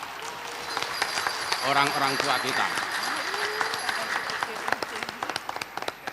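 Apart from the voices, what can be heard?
applause at a graduation ceremony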